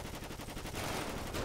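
GTA 5 gunfire rattles out as rapid, loud automatic bursts in a dense, continuous fusillade with no gaps.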